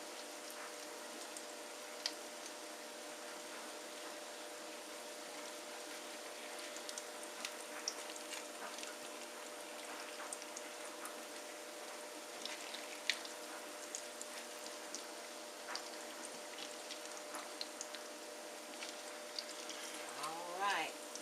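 Salmon croquettes fry in a pan with a steady, soft sizzling crackle that holds for the whole stretch, faint and even, with occasional small pops.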